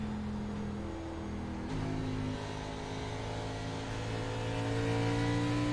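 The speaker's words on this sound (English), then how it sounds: "Gonna hear him ease out of the gas, tap the brake, and let it roll." Race car engine in an ARCA Series racing video game at New Hampshire: a steady, close mid-pitched drone whose tone drops and shifts partway through as the throttle eases off, with no talk.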